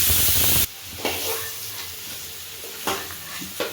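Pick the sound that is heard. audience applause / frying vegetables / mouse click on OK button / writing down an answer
frying vegetables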